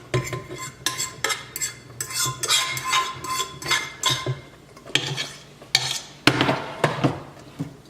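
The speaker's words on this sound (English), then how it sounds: "Give it a nice quick stir." Fried veggies for spicy tilapia being stirred in a pan, with repeated close scraping and clattering utensil strokes in a brisk uneven rhythm, loud and unaccompanied by talk.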